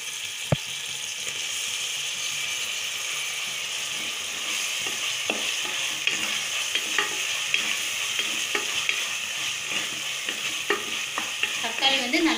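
Tomatoes frying in a pan for vegetable biryani, a steady close sizzle with repeated scraping stirs and spoon taps against the pan, a sharp knock near the start and a brief clatter at the end.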